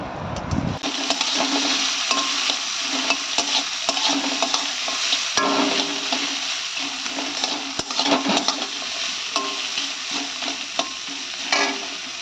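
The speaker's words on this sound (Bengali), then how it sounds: "আমি নারকেলটা ভাজা করে নিচ্ছি ততক্ষণে" Grated coconut fried in a pan, a continuous close sizzle for about twelve seconds broken by repeated scraping and stirring knocks, with no voices.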